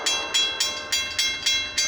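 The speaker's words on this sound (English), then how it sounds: "See it? See the train?" Railcars roll past on the Labor Day line, producing a close, regular clack roughly every quarter second over a constant rushing roar, with no talking.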